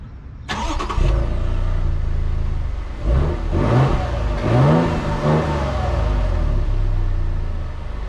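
Toyota Tundra with a 3.5-liter twin-turbo hybrid engine starting and revving, a loud close engine roar that rises and falls in several surges before settling.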